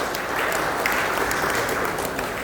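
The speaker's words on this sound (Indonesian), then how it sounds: "Tepuk tangan lagi." Applause from an audience at a council plenary session, steady dense clapping that carries on throughout.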